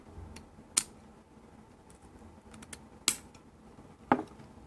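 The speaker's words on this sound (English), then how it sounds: "I'm going to grab these scissors. We'll cut these long ends off." Scissors snip cotton wick ends on a Smok TFV4 dual coil deck in three sharp, close clicks spread apart over a quiet background.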